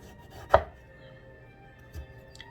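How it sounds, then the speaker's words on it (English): Knife cutting an eggplant for moussaka, trimming the ends, removing the stem and peeling the skin: one sharp close chop, then a softer cut near the end, with quiet room tone between. "you take a slice of the bottom, a slice of the top, get the stem out, and peel it all the way"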